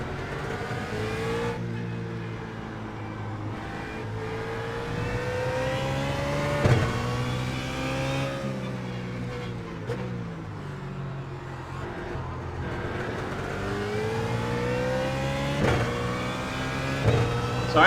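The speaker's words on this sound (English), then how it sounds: "this is the BMW Z4 challenge, so pretty much all these cars that I'm racing are all Z4s." BMW Z4 GT3 race cars in the iRacing sim at Interlagos: a loud engine whines and rises through the gears with repeated upshifts and downshifts, with other cars droning close by throughout.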